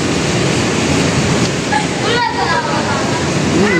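Strong rushing water sprays heavily and steadily nearby, a dense broadband roar that continues throughout while someone talks briefly over it.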